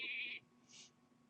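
A sheep bleats in the Hearthstone card game, one short nasal bleat followed by a fainter second cry, close and loud over a quiet game background.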